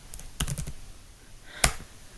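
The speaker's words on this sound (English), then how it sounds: "type in the date where this video was recorded" A few keystrokes on a computer keyboard while a date is entered: a short cluster of close clicks, a pause, then one sharper tap, over a quiet room hum.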